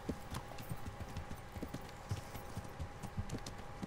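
Horse hooves clip-clopping at a steady trot while riding in Kingdom Come Deliverance, a medieval open-world game, with a faint neigh under the even, continuous rhythm of hoofbeats.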